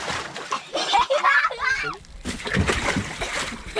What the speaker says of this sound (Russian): И можно прыгать в воду